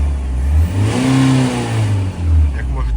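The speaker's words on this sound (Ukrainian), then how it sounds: "Газуємо і отак швиденько, дивіться, будь ласка." A 2009 Opel Vivaro 2.5 diesel van engine revs up twice in quick bursts, rising and falling, with someone speaking over the noise nearby.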